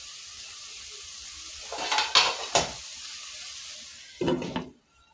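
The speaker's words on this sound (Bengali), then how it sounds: "আমি এটা ভালোভাবে কষিয়ে নিচ্ছি।" Small fish chorchori sautéing in a pan, with a low steady sizzle under bursts of metal scraping and stirring as the spoon works the fish, two close clatters mid-way and another near the end.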